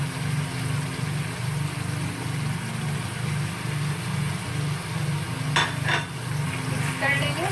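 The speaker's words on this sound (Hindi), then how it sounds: "चिकन हमारा सॉटे हो गया।" Chicken sautéing in a pan for white sauce pasta gives a steady low sizzle and hum throughout, with a brief utensil clatter and stirring scrape near the end; no one speaks.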